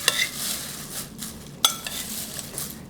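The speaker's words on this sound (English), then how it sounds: "So I'm just kind of stirring that all together." Crispy kale and rice stirred together in a bowl, quiet scraping and light clinks of a utensil against the dish, with a couple of sharper taps.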